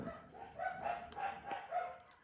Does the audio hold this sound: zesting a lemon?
no